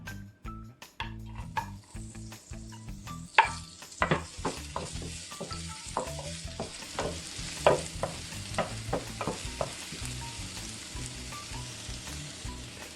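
Garlic fries in oil in a pan, a close sizzle broken by frequent scraping and clinking stirs of a utensil against the pan, irregular and busy.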